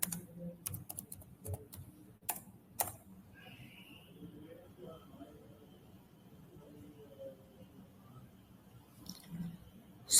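Keystrokes on a computer keyboard clack in a few quick bursts early on, then thin out to sparse, soft taps under a faint steady background hum.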